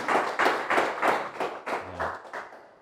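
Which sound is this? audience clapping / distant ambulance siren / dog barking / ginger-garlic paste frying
audience clapping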